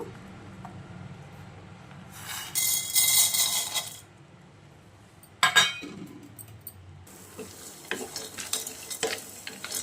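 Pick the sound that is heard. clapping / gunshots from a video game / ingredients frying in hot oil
ingredients frying in hot oil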